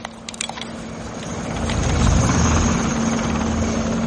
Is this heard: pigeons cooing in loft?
no